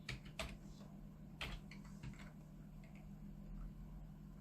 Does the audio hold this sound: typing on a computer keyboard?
yes